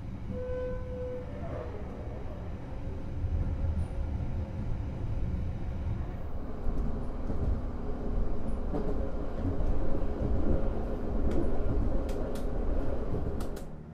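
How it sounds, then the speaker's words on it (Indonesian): The KA Harina executive passenger train pulls into Babat station with a low, steady rumble of rolling cars and faint squeals and clicks from the wheels, growing slightly louder over fourteen seconds. "kereta api Harina telah tiba di stasiun Babat"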